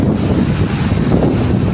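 Ocean waves break and wash in at low tide on a beach, heard close and loud with a heavy, constant roar of wind buffeting the microphone.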